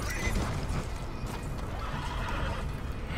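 A horse neighs and whinnies in Red Dead Redemption 2, close and loud, with hooves clip-clopping underneath amid dense game noise.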